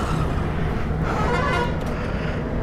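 A car horn toots amid continuous road traffic and engine rumble during a Yamaha MT15 versus KTM Duke 200 drag race, the honk sounding fairly close over the steady noise.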